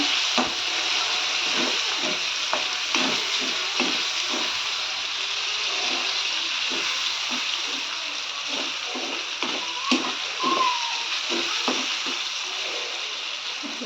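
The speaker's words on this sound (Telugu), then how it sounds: "పచ్చి రొయ్యల్ని వేసుకున్న తర్వాత ఒక్క నిమిషం ఇందులో మిక్స్ చేసుకొని" Raw prawns sizzle and fry steadily in a mango curry while a spoon stirs them, giving a continuous hiss broken by a run of scraping, clattering stir strokes close by, with no talking.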